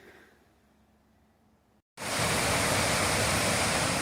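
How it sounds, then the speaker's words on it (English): A waterfall just off a hiking trail in Vermont's Long Trail near Camel's Hump roars suddenly in after a quiet moment, a loud, dense, unbroken rush close by. "But a beautiful waterfall just off trail."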